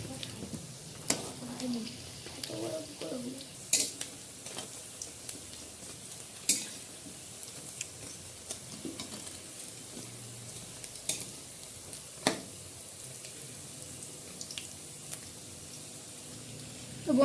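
Chicken skin pakoras fry in oil, a low steady sizzle broken by scattered clinks and scraping pops from a utensil in the pan, heard faintly beneath someone talking.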